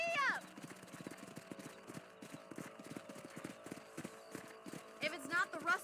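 Horse hooves galloping in the Western video game Red Dead Redemption, a steady rapid clip-clop close by, with a whinny near the start and another near the end, over a low game soundtrack.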